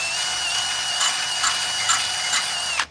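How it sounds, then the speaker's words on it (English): A power drill bores holes in a garage workshop, a steady high whine with several short bursts of added grinding as the bit bites, fairly close and alone. "I gotta drill"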